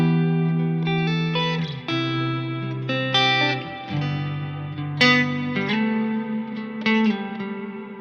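Electric guitar through an ambient pedal with a darker tone, sustained notes blending into a smooth, echoing wash, played alone.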